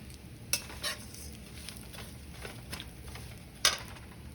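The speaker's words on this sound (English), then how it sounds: "I am going to roast the desiccated coconut flour." Desiccated coconut flour roasts in clarified butter with a faint steady sizzle, a few soft scrapes of a spoon against the pan and two sharper clinks, nearby and quiet.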